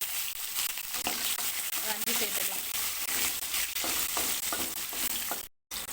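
Green chillies, shallots, tamarind and tomato frying in a pan, a steady close sizzle with scraping stir strokes, unbroken until a brief dropout near the end.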